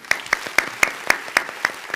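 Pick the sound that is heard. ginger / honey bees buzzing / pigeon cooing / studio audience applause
studio audience applause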